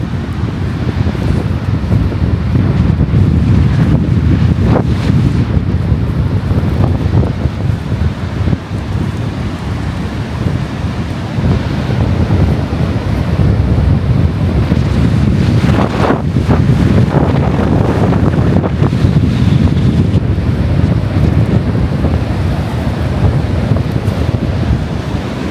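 Strong sandstorm winds buffet the microphone on a Gran Canaria beach, a constant loud roaring rush blended with crashing surf, swelling and easing in gusts without a break.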